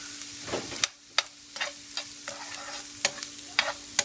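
Onion and curry leaves sautéed in a pan for goat trotter soup, with a low sizzle under repeated sharp scrapes and taps of a stirring spoon at an irregular pace, close and fairly quiet, no talking.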